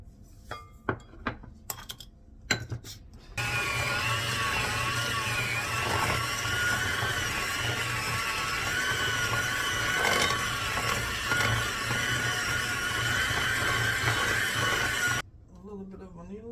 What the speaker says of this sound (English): And I'm gonna use my hand blender.